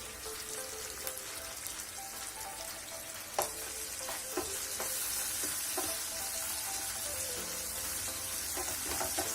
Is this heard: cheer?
no